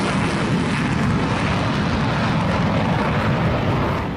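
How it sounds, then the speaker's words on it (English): A MiG-21 jet fighter flying at an air show in North Korea, a loud, steady broadband jet roar that holds throughout and tapers slightly at the end. "The afternoon was kicked off by another smashing hit, the MiG-21."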